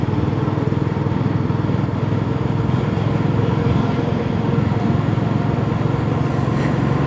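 A Tiger motorcycle races at full speed on a highway, a continuous loud engine drone with heavy wind rumble and no pauses throughout.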